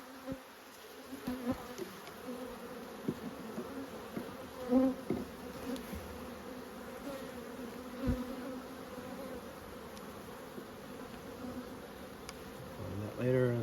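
Bees buzz steadily and close at an open beehive, a dense continuous drone with scattered louder passes from individual insects, and no talking over it.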